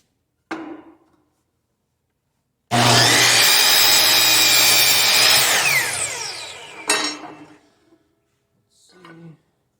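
A power saw cutting through a wooden stud: a brief blade spin-up, then one loud several-second cut with the pitch dropping as the blade slows, followed by clunks of the wood being handled.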